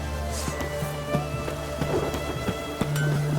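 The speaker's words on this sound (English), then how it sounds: "What a downpour." Heavy rain falling in The Witcher 3: Heart of Stone, a steady dense patter with scattered drip taps and a low rumble underneath, continuous and close, with no talk.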